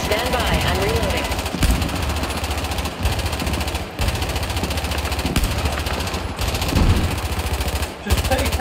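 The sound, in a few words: gunfire in Battlefield 4 video game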